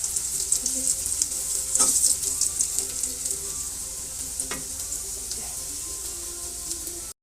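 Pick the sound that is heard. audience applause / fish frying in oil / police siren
fish frying in oil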